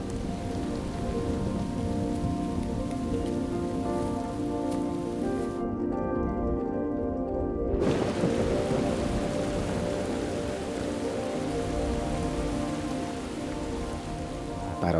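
Steady heavy rain of the wet season pours over the landscape in a dense, continuous hiss that stays even and unbroken throughout.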